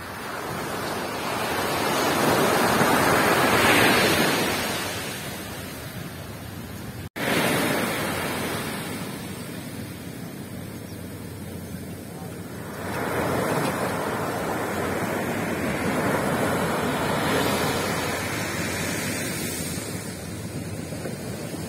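Strong ocean waves roll in at Pundaquit Port in Zambales, surging and receding in broad swells, with heavy wind buffeting the microphone and a brief cut midway.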